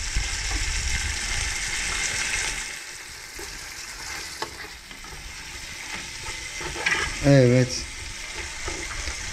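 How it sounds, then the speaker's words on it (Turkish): Small diced meat sautés in a pan with a loud, steady sizzle and the scrape of stirring. A person speaks briefly near the end. "Etimizi kavurmaya bıraktık."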